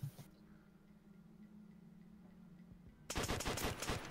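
Rapid automatic gunfire in Call of Duty: World at War multiplayer bursts in near the end after a quiet stretch, a fast close rattle of shots.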